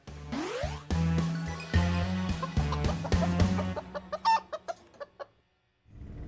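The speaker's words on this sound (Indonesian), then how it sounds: "Tuh, ayam-ayam di belakang tuh stres dari lo nyanyi." Chickens clucking loudly and close, a rapid series of sharp squawking clucks that build into a busy burst and then taper off into a few spaced calls before a brief silence, with no talk over them.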